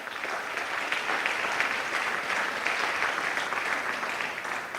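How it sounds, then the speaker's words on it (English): A crowd at a state-of-the-university address applauds, a dense, even roar of many hands clapping at once, sustained and uniform throughout without any talking over it. "Give yourself a round of applause."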